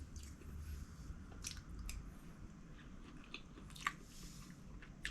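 Quiet, wet chewing and biting sounds close by, with faint crunches and a soft background murmur, no talking.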